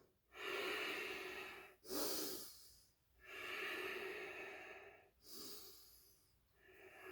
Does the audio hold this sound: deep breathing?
yes